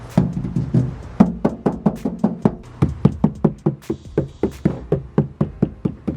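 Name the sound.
knocking on sound-deadened Toyota Tacoma door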